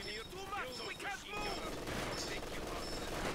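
Bursts of gunfire from a Company of Heroes 4v4 match on Port of Hamburg, rapid machine-gun style shots crackling alongside other battle noise, with a player's voice talking over the opening moments.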